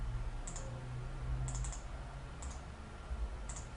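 Computer mouse clicks, sharp and close, coming singly and in quick doubles about once a second over a low steady hum of room noise.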